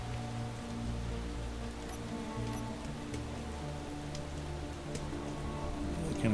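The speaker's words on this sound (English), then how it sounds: "I kind of wish it wasn't raining at the moment" Steady rain patters across the landscape in the Space Engineers video game, a continuous broadband hiss sitting over low droning tones of machinery and music, with no one talking.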